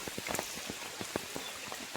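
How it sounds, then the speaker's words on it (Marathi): Rain falls at a riverside in the Konkan region, with scattered drops tapping and pattering over a steady wash of noise. The sound is moderately faint and brief, with no talk. "पाऊस तर अजून चालू आहे"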